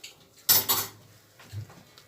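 Potatoes are stirred with mayonnaise, coriander and dill in a serving dish, giving a short burst of clinking spoon-on-dish scraping and tapping, then a fainter second stir, with no talk.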